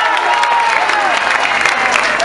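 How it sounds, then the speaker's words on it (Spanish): Dense crowd applause at a campaign closing rally for Esteban Acosta, steady and loud throughout, with cheering voices rising over the clapping. "para que nuevamente pida un fuerte, fuerte aplauso, maestra"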